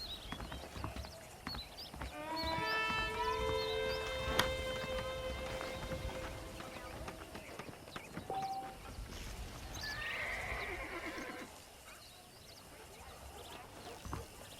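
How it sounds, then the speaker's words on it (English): Horses in the Red Dead Redemption video game snort and whinny amid steady clip-clopping hooves, a long clear neigh standing out, with faint bird calls and ambient ranch background, no talking. "The horses are saddled up over here."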